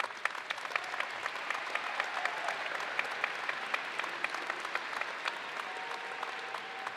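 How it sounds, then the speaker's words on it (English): A commencement audience at a college engineering graduation gives warm, sustained applause for students graduating with honours, a dense, even wash of many hands from a large hall that holds steady for several seconds. "let's have a round of applause for these outstanding students"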